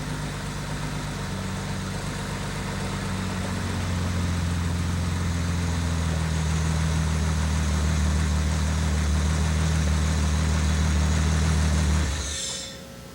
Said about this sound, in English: Turn the air bypass screw clockwise to slow the engine or counterclockwise to increase the idle.